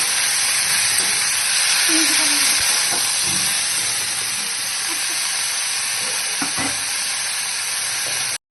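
Boiled food fries in a pan, a continuous close sizzle and hiss with occasional stirring scrapes and knocks, ending abruptly.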